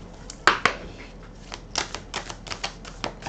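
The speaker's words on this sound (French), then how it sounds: "je la remets dedans et on va tirer quelques cartes" Oracle cards being shuffled and drawn: a quick run of close, crisp clicks and flicks, two sharper snaps near the start, then a steady patter of lighter card taps.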